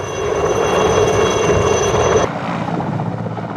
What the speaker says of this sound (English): The workhorses, especially for the far-flung outposts in the northeast, are the ubiquitous Mi-8 and the Mi-17 medium helicopters.